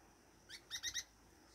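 A small bird trapped beneath a lablab bean plant gives a few quick, high chirps in a brief cluster, faint and close against an otherwise quiet background.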